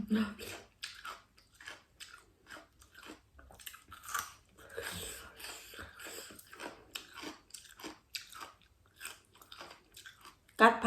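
Fresh raw beef liver bitten and chewed close to the mic, with soft wet squishing chews and bites scattered through the clip, interrupted now and then by murmured speech.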